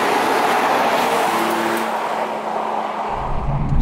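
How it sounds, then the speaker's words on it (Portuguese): Nissan 370Z Nismo with a V6 engine sends a loud, steady exhaust roar from close by. It holds a sustained drone throughout, with no talk over it. "o barulho lá fora, pelo escape, até é um barulho assim bastante interessante. Vê-se que tem aqui um V6."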